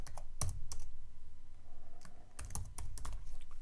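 Typing on a computer keyboard, quick irregular clusters of close, light key clicks with short pauses between bursts and no voices.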